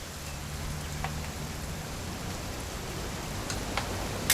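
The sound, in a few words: rain falling, from a video game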